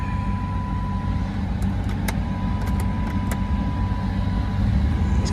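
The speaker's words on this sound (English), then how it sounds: "that's what it is, the fan motor" The electric fan motor on a Dodge Durango R/T runs with a steady, loud whirring drone and a constant hum that holds level throughout.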